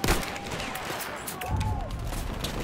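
Battlefield 1 gunfire in a multiplayer match on the Achi Baba map, a dense, continuous clatter of rifle and machine-gun shots with distant bursts blending into a noisy battlefield din.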